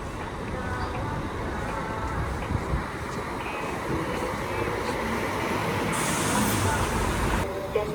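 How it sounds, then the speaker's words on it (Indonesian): Rosalia Indah single-deck bus bound for Palembang pulling away from a terminal: a broad, steady engine roar and rumble sustained throughout, with a brief hissing burst near the end like an air brake, under faint background voices. "Bus Rosalia Indah tujuan ke Palembang berangkat."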